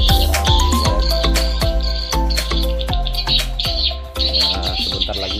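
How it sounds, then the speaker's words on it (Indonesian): Swiftlets chirp and twitter inside a swiftlet farming building in Bima, a loud, dense chorus of sharp repeated clicks and tweets, echoing and overlapping throughout with no pause. "Pagi ini saya sudah berada di tempat pemeliharaan burung walet."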